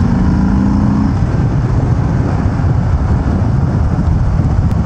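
A 2019 Harley-Davidson Sport Glide big-twin engine at speed on a test ride, a steady loud rumble mixed with heavy wind roar, constant throughout with no talk.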